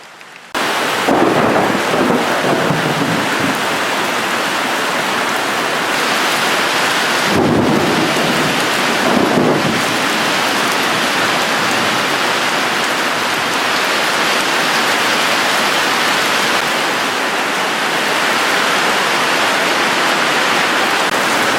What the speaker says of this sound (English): Every time I try to do something, it rains.